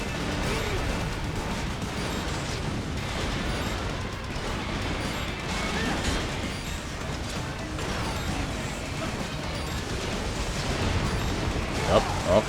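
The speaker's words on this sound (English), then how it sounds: "Oh, more explosions." Repeated explosions in the video game Metal Gear Rising: Revengeance, dense and continuous booms and crashes filling the whole stretch, growing louder near the end.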